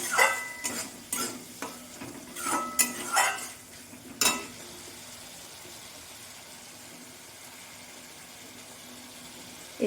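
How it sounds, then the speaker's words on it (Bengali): Spice paste is stir-fried in oil for a Bengali soybean and potato curry, with quick scraping strokes of a spatula against the pan at the start and a soft steady sizzle that carries on alone afterwards. "মশলাটা আমি তেল ছাড়া পর্যন্ত কষিয়ে নেব।"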